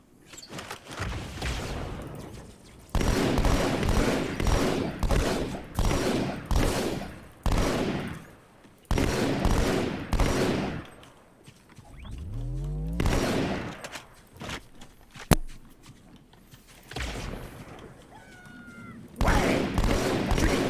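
Gunfire in the Halo 2 campaign, with bursts of automatic fire and shots repeating across the clip, loud and close, broken by short pauses and a sharp crack near the end.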